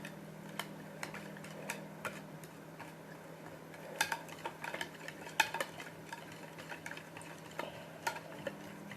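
Lasagne sauce being stirred in a pan, with soft scraping and irregular light clinks of a utensil against the pan over a low steady kitchen hum, no talk.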